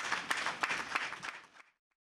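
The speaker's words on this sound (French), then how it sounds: "Merci d'applaudir." An audience at a Benin event claps together in a brief, dense burst of applause that fades out after about a second and a half.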